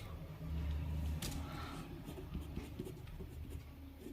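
A pen scratches across paper in short strokes while a math problem about a circle's diameter is written out; the writing is soft and close, under a low background hum.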